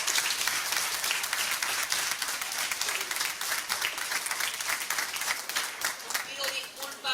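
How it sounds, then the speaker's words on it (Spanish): Crowd applause at a torrija cooking contest during Holy Week in Cuacos de Yuste, Cáceres, sustained rapid clapping from many hands, steady and moderately loud throughout. "Un aplauso. Y un aplauso para todos."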